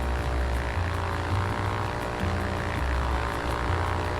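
A propeller plane's engine runs at full throttle in the VR flight game Ultrawings, a loud, steady, close droning roar with a buzzing prop tone that shifts slightly in pitch throughout, with no talking.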